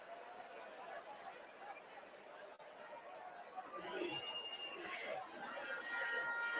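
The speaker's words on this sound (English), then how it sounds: "A subdued moment in the crowd for once." Football stadium crowd during a play-off semi-final, a subdued, distant murmur of many voices that swells slightly toward the end, with a commentator talking over it.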